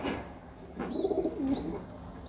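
Ghiyasulli pigeons coo in soft, repeated throaty phrases, close by, with a faint rustle in between and no talking.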